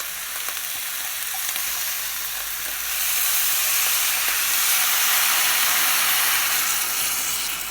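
Food in tomato juice sizzles and hisses in a hot pot during one-pot cooking while it is stirred; the steady frying noise swells louder about halfway through, with no voices.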